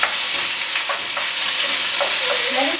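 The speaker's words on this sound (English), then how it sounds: "Let it sizzle." Wild caught shrimp sizzling steadily in a hot pan, with a continuous close frying hiss and a few soft stirring clicks, no talking.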